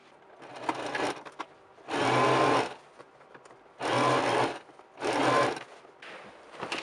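A sewing machine stitches a fabric binding strip along the edge of a lace gown bodice in three or four bursts of rapid whirring, each lasting about a second, separated by quiet pauses with small handling clicks nearby.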